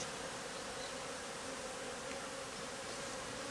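Aggressive honeybees swarm around a hive in a dense, steady buzzing drone that fills the scene, close and unbroken, with no voices.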